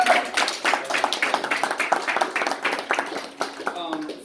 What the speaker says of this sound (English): everybody, round of applause for Yaziz